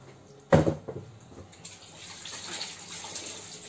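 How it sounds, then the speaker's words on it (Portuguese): Tap water running through a water filter, starting with a sudden splash and settling into a steady gush, close and without talk. "Isso aqui, ó, é pra filtrar a água"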